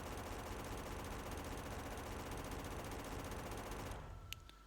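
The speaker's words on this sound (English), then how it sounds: "So let's just build a submachine gun, get a few regular mags." In Factorio, a submachine gun fires in a sustained rapid burst that holds for about four seconds, then stops abruptly, leaving quiet game ambience and a single faint click.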